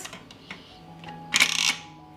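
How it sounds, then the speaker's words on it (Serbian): A short metallic clatter and rattling click as a pressure cooker lid is fitted and locked, after a few light taps, with no talking. "Zatvorit ću ekspres lonac"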